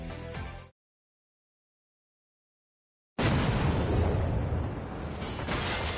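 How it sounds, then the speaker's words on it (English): A short burst of sound, then about two seconds of dead silence, followed by a loud sustained rumbling blast of explosions in My Hero Ultra Rumble that roars on to the end. "It's more explosions."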